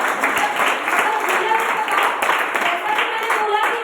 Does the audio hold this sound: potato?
no